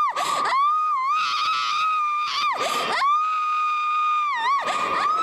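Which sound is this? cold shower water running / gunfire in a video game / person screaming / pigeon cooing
person screaming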